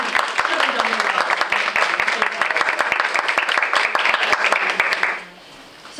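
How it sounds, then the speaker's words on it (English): An audience at an evening author event in a library breaks into applause, a dense burst of many hands clapping that holds steady for about five seconds and then quickly dies away. "So please give them a round of applause."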